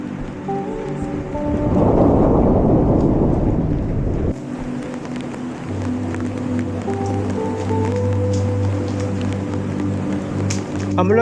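Heavy rain pours on a mountain road between Kel and Taobat in Kashmir's Neelum Valley, with a loud rolling thunderclap early on, then steady rainfall under a low drone and faint talk.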